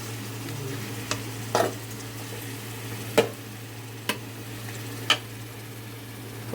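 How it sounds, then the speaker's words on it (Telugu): Masala-coated fish pieces fry in oil for a fish curry, a steady low sizzle running throughout with a few sharp clicks and spatters popping out at intervals. "చేప ముక్కలు మసాలా పట్టి వేగాయి కదా."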